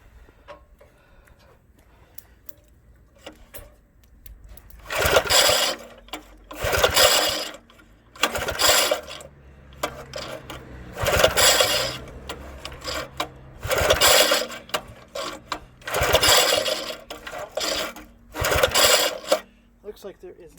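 A Springfield rototiller engine primed with carburetor cleaner is cranked in repeated bursts of about a second each. The rapid mechanical whirring is separated by short pauses, and it sounds close and loud without catching.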